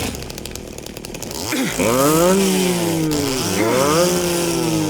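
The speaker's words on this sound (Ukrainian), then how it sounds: "Зараз я вам покажу, як працює бензопила." A chainsaw in the video game Silent Hill 2 Remake starts from a low idle, then revs up into a loud, close, rising and falling snarl. Its pitch bends up and down as the throttle changes.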